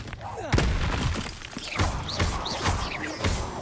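Incendio fire spell being cast in the Hogwarts Legacy video game, a burst of whooshing flame with a heavy thump at the onset and crackling tails, with more spell bursts and blasts following while a voice talks over them.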